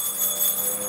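A bell rung during a spiritualist session gives a steady, sustained ringing tone with bright shimmering overtones, close and alone without voices.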